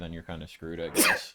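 A single sharp sneeze, close and loud, bursting out right after a short stretch of casual talk.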